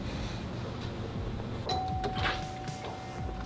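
A doorbell chimes faintly in the background over low room noise and muffled activity.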